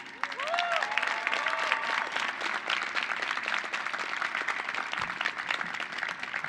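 Applause with scattered cheers rises from an audience at a California State University Northridge freshman convocation, greeting a guest with steady dense clapping throughout.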